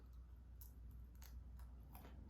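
Thick homemade vegan herb crackers are bitten and chewed up close, with three or four sharp crunchy bites breaking through a quiet low rumble.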